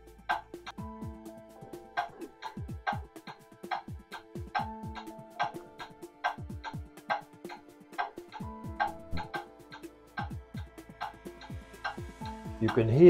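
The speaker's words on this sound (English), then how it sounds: "You can hear that that clock is now in beat." Pendulum clock ticking in beat, an even, regular tick-tock of sharp clicks close up, with faint background noise and a rising sound at the very end.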